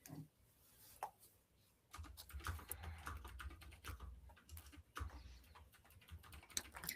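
A wood-grain computer keyboard clicks and clacks in quick, irregular bursts of typing, close and fairly quiet, with faint room noise behind it.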